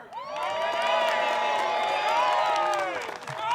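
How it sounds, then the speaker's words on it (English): Crowd at a disc golf tournament, The Open at Austin, erupts in a big sustained cheer with whoops and shouts, loud and close throughout, swelling early and easing slightly near the end. "Calvin Heimburg with a big cheer from the crowd"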